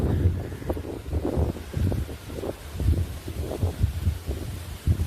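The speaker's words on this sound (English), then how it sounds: "More wind." Wind buffets an outdoor microphone in a steady, rumbling low roar with irregular gusty swells, fairly loud and close, with no other sounds standing out.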